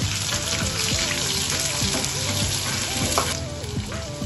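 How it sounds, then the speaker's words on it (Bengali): Chopped onion fries in hot oil with nigella seeds and crushed garlic, a constant soft crackling sizzle, while a faint background tune loops underneath. "এবার দিয়ে দেবো আমি পেঁয়াজ কুচিটা।"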